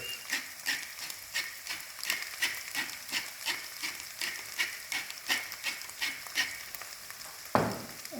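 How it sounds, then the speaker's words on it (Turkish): Uzbek pilaf stirred in a frying pot with black pepper, a rhythmic series of scraping strokes, about two per second, over a continuous sizzle, close and moderately loud, ending with a sharper scrape. "Yalnızca bir karıştırıyoruz."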